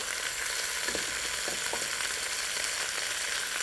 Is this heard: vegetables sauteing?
yes